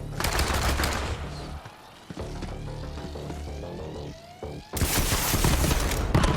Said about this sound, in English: It's like a grenade launcher.